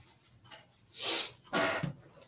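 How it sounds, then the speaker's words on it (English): A sneeze: a quick intake of breath followed by a sharp, loud burst of air, close up, with a short breathy sound afterward. "I'm just going to sneeze here. I can feel it coming."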